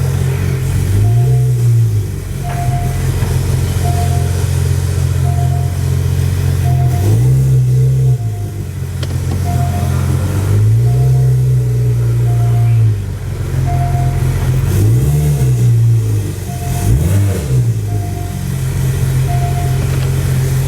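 A car engine idles steadily and rises in several short revs as the car creeps up onto custom ramps for a scissor lift, close and fairly loud, with occasional voices in the background.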